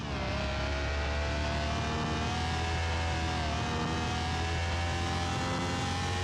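Non-turbo 2JZ inline-six in a Toyota Supra, virtual engine in Car Mechanic Simulator 2021, revving steadily and loudly with a sustained droning tone throughout, no voices over it.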